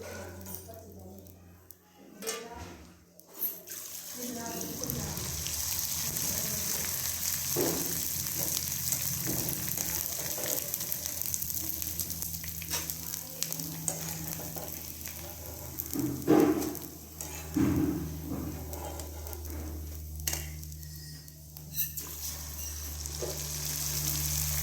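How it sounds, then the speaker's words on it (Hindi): Edible gum (gond) fries in hot ghee for fenugreek laddoos, a continuous crackling sizzle with stirring clinks, someone talking over it and brief dog barks. "इस तरह हम इसको गूंद को तलते हैं"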